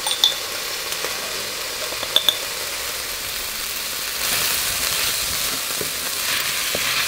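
Pork browns in a pan with a continuous sizzle that grows fuller partway through, dotted early by a few sharp clinks of a utensil.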